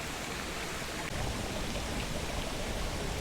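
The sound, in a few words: creek water flowing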